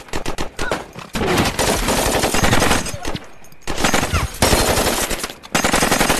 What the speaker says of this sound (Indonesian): Dengan sigap, mereka langsung mengambil posisi bertahan sambil menembaki musuh yang ada di sana.